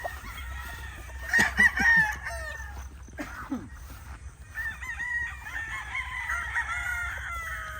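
Local banded stag roosters, about seven months old, crow in a close, loud burst, followed by another call and scattered clucks and chirps over steady farmyard background noise.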